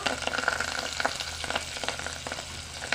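Curry leaves crackle and sizzle in hot oil for pepper rasam, a close, busy spattering with irregular pops and soft stirring throughout.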